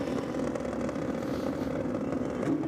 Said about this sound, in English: Hear those revs come up.